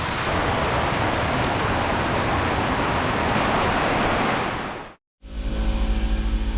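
Steady, dense rain roars in a constant broadband hiss for about five seconds, then cuts off abruptly into a different, lower rumbling background.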